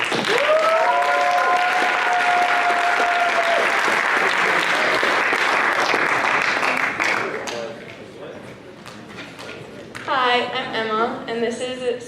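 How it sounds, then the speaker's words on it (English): Loud, dense audience applause at a leadership summit fills the first seven seconds, with cheering voices mixed in, then fades into scattered claps as people begin talking near the end. "Let's clap it up"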